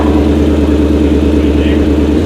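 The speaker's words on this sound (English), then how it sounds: "you can hear this unique Shelby Mustang roar" A 2020 Shelby GT500 Mustang engine, gold, running loud and close with a deep, continuous rumbling exhaust throughout the short stretch, with no distinct rev peaks.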